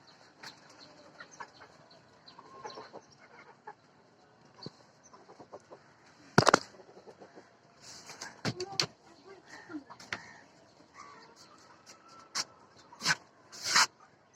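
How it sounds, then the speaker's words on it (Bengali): A native domestic rooster on a small backyard poultry farm gives short, scattered clucks and calls, some fairly close and sharp, with a few wing flaps among quiet background noise. "এই যে আমার সেই মোরগ"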